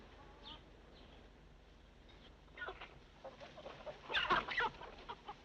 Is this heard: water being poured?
no